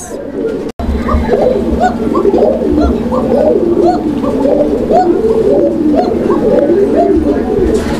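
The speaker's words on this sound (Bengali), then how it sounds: "আপনারা এতক্ষণ যে মিষ্টি সুরে চিকন ডাকে কবুতরের ডাক শুনছেন" A pair of Koka pigeons, kept for sale, give thin, sweet calls in close, rapid, repeated coos that run on steadily, broken only by a brief dropout near the start.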